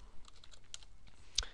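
Keys clatter faintly on a computer keyboard while an email shared mailbox is being set up on a server, with a few light, scattered taps and one sharper click near the end.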